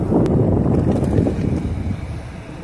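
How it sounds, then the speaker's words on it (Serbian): Wind rushes past a rider on an electric bicycle making delivery runs, a close, low, gusty buffeting rumble that swells and fades slightly, with no voices. "Šije vetar"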